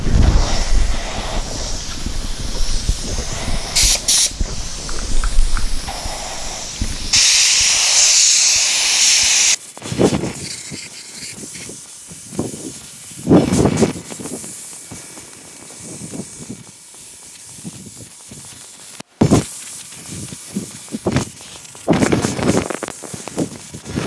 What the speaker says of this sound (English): the clear is spraying like it should